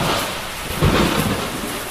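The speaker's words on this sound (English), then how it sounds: "That lightning seemed a little more aggressive than the first one." Thunder rumbles through a steady downpour during a storm in the video game Pipe Head, with the roll swelling briefly midway over constant loud rain hiss.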